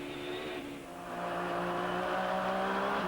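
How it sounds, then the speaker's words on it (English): A Judd-engined Lola prototype race car in a 2000 American Le Mans Series race, heard down the back straight as a loud, steady engine drone whose pitch climbs slightly as it accelerates. "Judd-powered Lola, being driven right now by Didier de Rodriguez down the back straight, running in 8th position"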